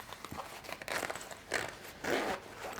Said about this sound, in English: Once you've got that, you're going to open your zipper